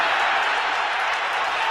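Football stadium crowd at a Chargers vs Packers game, a broad sustained roar of many voices and scattered applause reacting to a missed flag, steady and enveloping from start to finish.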